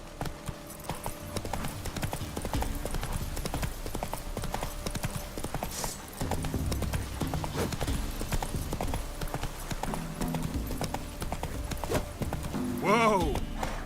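Roach, a horse in the video game Witcher 3, gallops with steady rhythmic hoofbeats throughout, with game music underneath, a voice speaking briefly over it, and a short whinny near the end.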